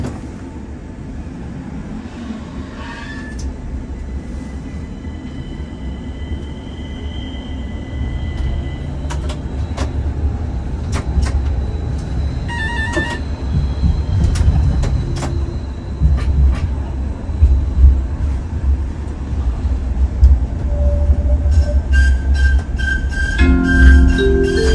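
Continuous low rumble of a Stadler Citylink tram-train in motion between Hódmezővásárhely stations in Hungary, with wheel and track clatter, squeaks and rattles building gradually over a long steady ride.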